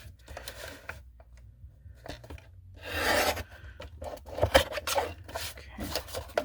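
Cardstock is trimmed for a handmade card with a paper trimmer, giving quiet scraping and rubbing strokes in short bursts, including one longer slide.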